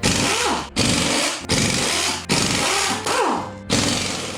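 Power tool spinning out the head bolts on a 6.0 LS engine during teardown, loud repeated bursts of whirring and rattling, each cut off abruptly before the next.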